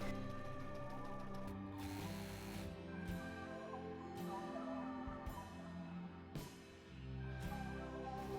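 A home sewing machine stitches the inside of a Patrones dress in grey thread, running in a steady mechanical whir broken into several short bursts with brief stops between them, close and alone.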